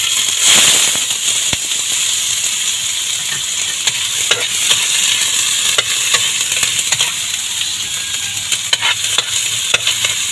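Onion sautéing in oil in a pan gives a loud, continuous crackling sizzle punctuated by repeated scrapes and taps of stirring throughout, with no talking.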